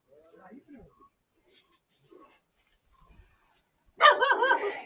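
Quiet scattered talk, then a sudden burst of loud, close dog barking near the end.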